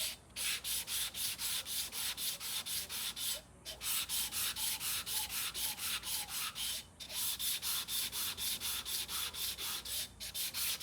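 Motorcycle carburettor float bowl from a vintage British bike rubbed flat on abrasive paper, a steady rhythmic scraping in even strokes, close and alone, with brief pauses as the bowl is turned.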